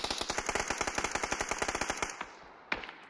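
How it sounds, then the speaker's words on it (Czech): Rapid automatic gunfire in the video game PUBG rattles in a fast, even burst of shots for about two seconds, then stops, followed by a couple of single sharp bangs. "Střílí ho."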